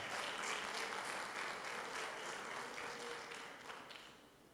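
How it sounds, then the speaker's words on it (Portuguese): Church congregation applauding together in steady, dense clapping that fills the space and gradually tapers off toward the end, with no voices rising above it. "E sente glorificando ele com as palmas"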